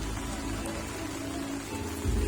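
Heavy rain pouring down on an outdoor sports court, a dense, steady roar of drops that swells louder at the end, with no voices over it.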